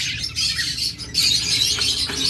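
Pet lovebirds and budgerigars chirping steadily in a cage setting, a dense, continuous chorus of bright tweets and chatter that rises and falls with brief gaps, fairly close and loud, with no talk.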